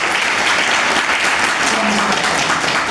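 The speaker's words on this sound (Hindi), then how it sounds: "जोरदार प्रभु के लिए ताली" Sustained applause from a church congregation during a Sunday fellowship service, steady and dense clapping filling the room for the whole stretch, close and loud.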